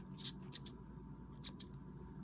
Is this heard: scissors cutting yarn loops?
yes